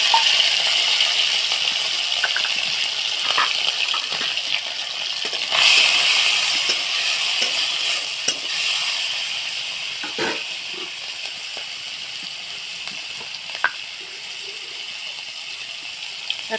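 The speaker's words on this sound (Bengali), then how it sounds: "চিংড়ি মাছটা তেলে দিয়ে দেবো।" Prawns frying in hot oil in a kadai, a steady broadband hiss and crackle throughout with a few sharp pops and a brief louder surge near the middle.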